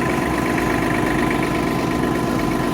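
Tractor engine idling steadily in low gear, a constant close, even rumble with a low vibrating hum and no pauses or talk.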